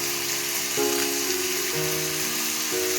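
Onions and spices sauté in a pan for egg gravy, giving a steady, close sizzling hiss that runs the whole time beneath a soft musical background.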